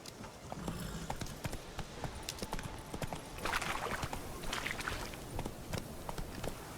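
Horse hooves clip-clop in The Witcher 3, a steady walking rhythm of light, close hoof strikes over faint ambient background, with no talking.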